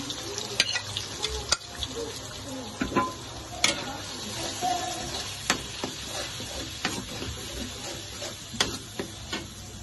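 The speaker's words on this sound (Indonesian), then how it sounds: "Saya akan tumis sampai bumbu ini matang dan berbau wangi ya. Kita masukin cabenya." Chili and spice paste sizzles in hot oil while being sautéed for gulai lontong sayur, a steady frying hiss broken by irregular scraping and stirring clicks from a utensil against the pan, close and unaccompanied by speech.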